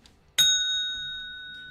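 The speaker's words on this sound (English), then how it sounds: "Selena, ring that bell." A single bright ding from a small handbell, struck once sharply and left to ring out with a clear, slowly fading tone in a quiet room.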